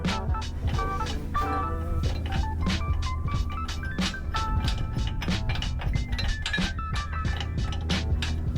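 Bolt being turned on a track bar bracket of a 2022 Toyota Tundra during a bolt-on track bar correction kit install, a steady fast ratcheting click with metallic clinks, close and continuous.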